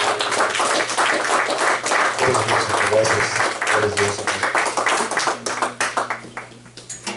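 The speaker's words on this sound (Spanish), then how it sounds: "Un aplauso, mis hermanos." A church congregation claps for God during worship, a dense sustained patter of hands under a voice speaking and singing praise in Spanish, thinning toward the end.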